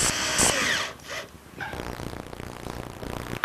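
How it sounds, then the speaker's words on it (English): A power drill drives screws up from underneath into a cupboard, a whirring burst at the start, then a longer sustained buzzing run close by. "Now I'm going to put a couple screws from underneath to secure it."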